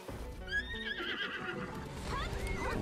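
Horse neighing in a video game, a loud whinny with rising and falling tones over clip-clopping hooves, running continuously and close.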